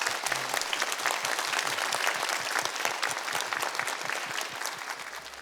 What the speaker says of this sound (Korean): 답변해 주신 교수님께 큰 박수 부탁드립니다